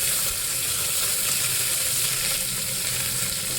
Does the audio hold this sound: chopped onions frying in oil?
yes